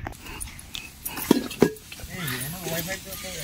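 Meat being stirred with chili and oil in a pot at an outdoor picnic cook-out near the border, with scraping and clinking of a utensil against the pot, two sharp knocks, and a voice talking over it.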